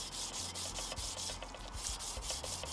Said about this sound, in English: So if I sand it more